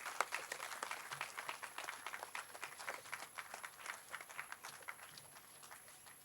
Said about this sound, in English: Please give him a huge round of applause to join on the dais.